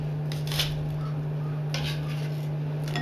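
Knife slicing an onion into thin slices on a cutting board, a few soft, brief cutting strokes close up over a steady low hum, with no talking.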